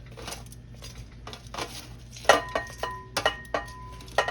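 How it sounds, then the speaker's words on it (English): Crispy fried buffalo shrimp tumble into a bowl, with a series of sharp clattering clinks and light rattles, sparse at first and then several distinct knocks close by, with a faint background hum and no speech. "Hear how crispy that shrimp is"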